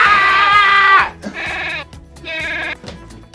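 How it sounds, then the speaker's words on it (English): A goat gives three loud, close, wavering bleats, the first long and the next two shorter, separated by brief pauses. "What does a goat sound like?"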